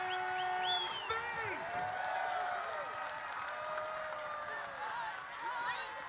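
A stadium crowd at a Saint Louis FC versus New York Red Bulls II soccer match cheers and whistles after a goal, a sustained roar running under a commentator's voice.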